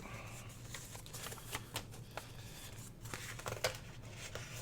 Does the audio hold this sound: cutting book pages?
yes